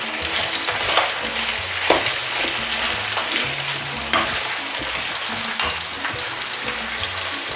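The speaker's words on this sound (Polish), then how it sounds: "I na tą oliwę wrzucam czerwoną cebulę pokrojoną w takie krążki." Sliced red onion rings sizzle and crackle loudly in hot olive oil in a pan, with occasional scraping knocks as they are stirred, close up and without talk.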